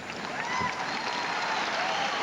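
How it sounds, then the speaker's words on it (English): A large crowd applauds steadily at the 1989 Westminster Kennel Club Dog Show, a continuous wash of clapping heard from a distance and holding level throughout. "You can hear the crowd in the background"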